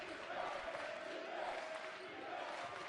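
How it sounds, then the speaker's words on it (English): A college basketball home crowd roars in a packed building after a big three-pointer, a continuous distant wash of cheering and yelling held at moderate, steady level. "This crowd is into it."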